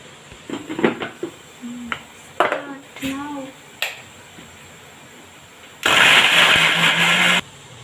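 After scattered clicks and brief clatter, a mixer grinder whirs loudly for about a second and a half grinding spicy chutney ingredients, then stops abruptly.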